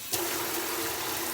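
Hot water runs steadily from a tap, starting abruptly as a continuous hiss and gush that holds at an even level, close by and without speech.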